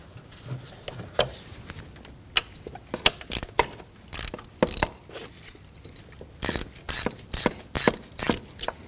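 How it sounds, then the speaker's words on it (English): A hose clamp on the intake of a Ford Edge being loosened with a ratchet, giving repeated short clicking bursts close by that grow denser and louder toward the end, with no talking. "Moving inward on the intake, we can loosen up the second hose clamp."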